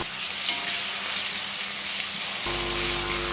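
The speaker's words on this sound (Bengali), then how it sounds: "টমেটোটা দিয়ে দিলাম টমেটোটা দিয়ে একটু ভাজা ভাজা হয়ে গেলে" Chopped tomato frying in a pan of oil with Kashmiri chilli powder, a dense, loud, continuous hiss and sizzle close by, with a low hum entering toward the end.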